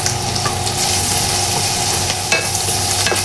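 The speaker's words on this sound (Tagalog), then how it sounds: "Ituloy lang ang pagigisa sa sibuyas at bawang kasama po ng pork giniling" Onion and garlic sauté with ground pork in a hot pan, giving a loud, close, continuous sizzle with occasional stirring clatters and no voices.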